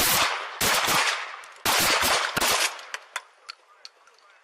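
Police open fire in a rapid burst of loud, sharp gunshots captured on a Salt Lake City officer's body camera, the volley packed tight at first, then a few spaced shots trailing off with ringing echoes.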